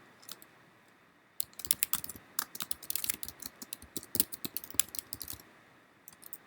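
Rapid bursts of keystrokes clatter on a computer keyboard, close and clear, in quick uneven runs with short pauses between them and no voices.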